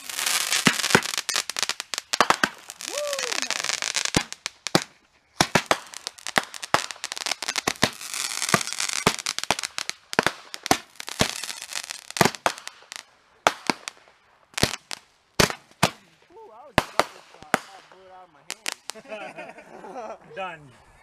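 Backyard Fourth of July fireworks, a five-ball firework launching and bursting: a long run of sharp, loud cracks and bangs in irregular bursts with crackling between them, with faint voices near the end.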